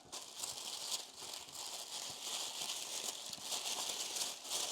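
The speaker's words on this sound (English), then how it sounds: "just the sound of the tissue paper is really pleasant" Tissue paper wrapping on an unboxing package crinkles and rustles continuously at close range, a soft, dense crackle with no voices.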